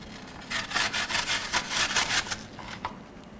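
Half an apple is scraped across a grater, making a rhythmic rasping of quick back-and-forth strokes, close and steady, that slows and thins toward the end.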